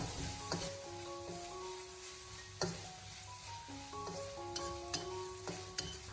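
Minced meat stir-frying in oil in a pan over low heat, a soft steady sizzle with occasional sharp clicks of the spatula scraping the pan.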